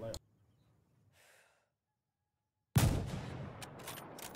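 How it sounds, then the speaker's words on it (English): A single loud, sharp bolt-action rifle shot in the tactical shooter Insurgency Sandstorm, fired at a target in light armor; a sudden close blast that decays into a short rumbling tail after near silence and a faint breath. "now let's test the light armor against a bolt action rifle."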